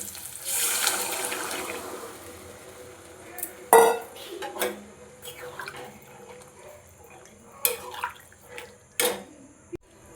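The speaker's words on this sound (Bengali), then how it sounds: "এবারে সেদ্ধ মটর দিয়ে দেবো" Boiled peas tipped into spiced ghugni masala in a pan, a soft hiss followed by clattering clinks of utensil against the pan and wet splashy knocks, spaced out and close.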